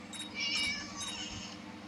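A cat meows twice in the Scary Teacher video game, faint game background beneath.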